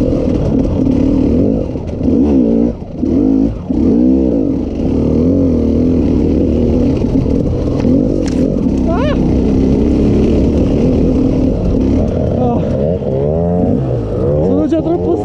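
A KTM EXC 300 two-stroke dirt bike revs and pulls while being ridden, its loud engine rising and falling in pitch close by throughout, with a rider's voice talking over it at times.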